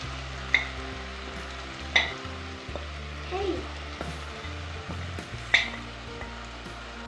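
Turmeric powder and cumin seeds sautéing on a low flame for bhindi masala, a quiet steady sizzle broken by a few sharp utensil clinks and light stirring sounds.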